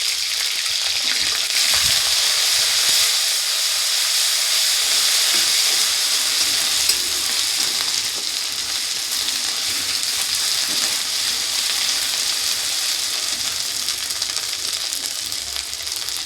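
Ginger paste and turmeric fry in a hot pan with a bright, steady hiss and sizzle that carries on unbroken, close by and loud, with no voices.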